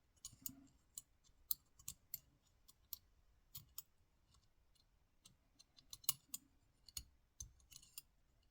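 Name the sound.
click of Lishi lock pick on a lock wafer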